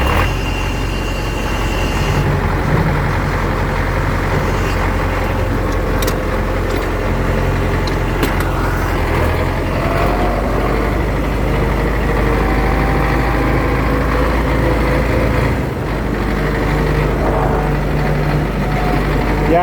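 A tractor engine idles in a steady, loud, low rumble close by, with a deep throbbing hum and small shifts in pitch as it runs over a firewood work site, with no talking.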